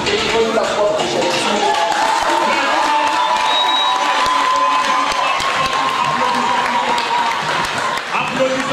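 Loud crowd cheering and clapping for young people, with shouts and whistles over continuous applause, sustained and energetic throughout.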